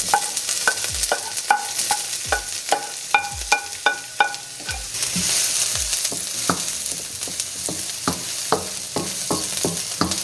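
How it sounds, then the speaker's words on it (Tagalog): Onion, garlic and ginger sautéing together in hot oil, with a steady sizzle under repeated sharp knocks and scrapes of a utensil against the pan, close and fairly loud, no talking. "Kapag mainit na yung mantika nyo, pagsabay-sabayin nyo na yung gisa sa onion,"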